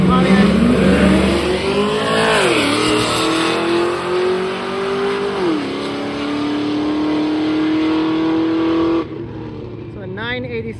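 Pontiac drag car roaring down the strip at a Canadian drag race, its engine revving hard and rising through the gears, loud and close, before cutting off sharply near the end.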